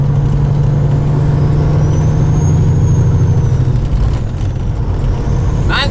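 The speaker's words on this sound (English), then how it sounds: "Man, the exhaust sounds nice." A 2001 Peterbilt 379 truck with a Caterpillar engine rumbles loudly and steadily from its exhaust, a deep continuous drone with a faint high whine, ending in a brief hiss-like burst.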